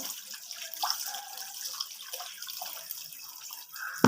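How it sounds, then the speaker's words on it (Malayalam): Water runs steadily and faintly from a tap while fish is washed for drying, with a soft continuous splash and a few light drips and clinks near the end. "ഞാൻ ഈ മീൻ കഴുകിയെടുക്കുകയാണ്"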